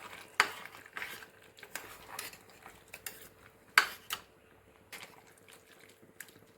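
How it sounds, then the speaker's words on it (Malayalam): A spoon scrapes and knocks against a pot while breadfruit curry with roasted ground masala and water is stirred, in a series of close, sharp taps and scrapes spaced irregularly. "ഇതൊന്ന് നമുക്ക് ഇളക്കിയെടുക്കാം."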